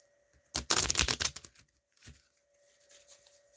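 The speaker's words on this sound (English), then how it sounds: "as I shuffle the cards" A dense burst of riffling card shuffles for about a second, close and crisp, followed by a few softer shuffling taps and quiet handling.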